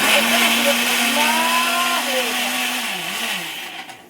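An electric blender whirring steadily as it churns a homemade sharbat drink, loud and close, with a slight pitch dip before it winds down at the end.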